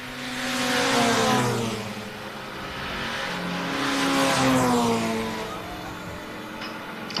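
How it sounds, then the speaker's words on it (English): The misfiring three-cylinder number 36 car races at Castle Combe in a Classic Sports Car Club event. Its loud, rough engine note swells twice as it passes nearby, then fades slightly, with no commentary over it. "The misfiring three-cylinder car 36 sounds worse"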